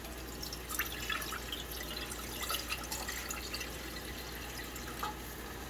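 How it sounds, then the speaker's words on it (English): Water trickles and splashes faintly into a pot on a stovetop, a quiet continuous pour with scattered drips and small splashes, heard alone at low level. "Then we're going to add some water."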